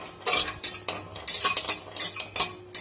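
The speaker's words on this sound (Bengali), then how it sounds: "আমি আলাদা করে ভেজে নিচ্ছি।" Whole spices such as cinnamon, nutmeg and mace frying in a pan, heard as a series of sharp rhythmic scrapes and clinks of a spatula over a faint sizzle, close and distinct.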